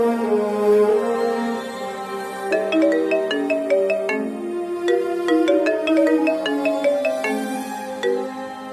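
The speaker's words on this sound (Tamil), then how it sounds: "நான் சூர்யா சாருக்கு போன் பண்ண போறேன" A melodic phone ringtone plays on its own during an outgoing call, a repeating chiming tune at moderate volume with no voices.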